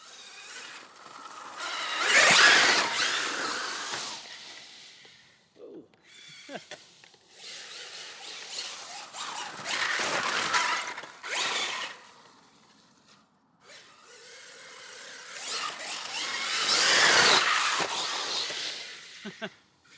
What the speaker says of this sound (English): let's rip it around real quick, have some fun on the stock tires